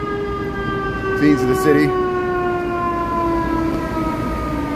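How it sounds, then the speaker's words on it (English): Ambulance siren passing through downtown Chicago's Loop, a steady rising and falling wail held across the whole stretch, moderately loud amid city traffic, with someone speaking briefly over it. "Here comes an ambulance."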